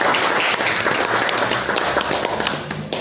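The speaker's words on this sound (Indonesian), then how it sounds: "aplaus dong untuk panitia dan" Applause for the organizing committee at a plenary meeting: a room of people clap together in a dense, steady burst lasting about three seconds.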